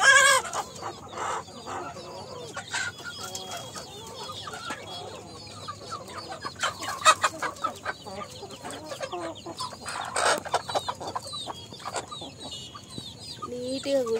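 Free-range country chickens perch in rows on raised wooden roosts at night on an organic farm, clucking and calling softly and steadily, with occasional louder squawks, near and continuous, while someone talks briefly.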